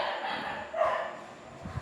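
A dog barks once at mid-distance with a bright, yelping tone over a faint outdoor background murmur, followed by a softer low sound near the end.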